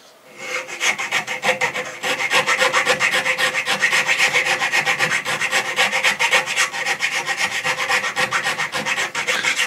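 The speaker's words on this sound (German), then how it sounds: "Als nächstes fallen wir mit der Rundfeile das Bohrloch schön glatt, dass die Schnur schön drin laufen kann" A round file rasps back and forth through a drilled hole in beech wood for a bushcraft rope tensioner, a steady run of close, rhythmic scraping strokes.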